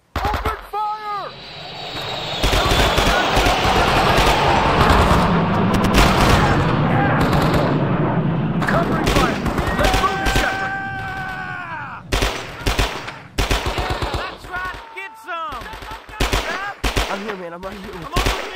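Dense gunfire and machine-gun bursts roar through a Vietnam-era battle at Da Nang in the video game Men of Valor, loud and sustained, with shouting voices and pained groans breaking through between volleys.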